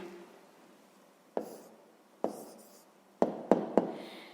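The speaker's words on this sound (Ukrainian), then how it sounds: "Записуємо відповідь." A pen writing a maths answer on paper gives a faint, soft scratching, broken by several sharp taps and strokes, close and quiet in an otherwise hushed room.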